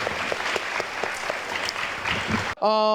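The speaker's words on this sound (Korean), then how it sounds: "박수 한번 좀 크게." An audience at a televised science forum on space applauds loudly and steadily, the clapping dense and close, then gives way abruptly to a short bright tonal chime.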